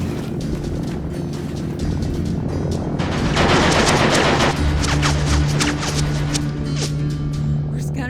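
Gunfire in an animated short film: dense, sustained volleys of loud rapid shots mixed with a booming roar, heaviest in the middle, continuous over the whole stretch.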